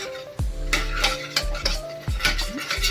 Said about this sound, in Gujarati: જો આવી રીતે સતત હલાવતા રહી અને આપણે લસણવાળું મરચું મિક્સ કરવાનું